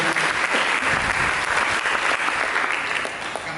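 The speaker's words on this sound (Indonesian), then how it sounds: "Mari kita berikan tepuk tangan yang meriah." Church congregation applauding during a sermon, a loud, continuous roar of many people clapping close by, dense and unbroken throughout.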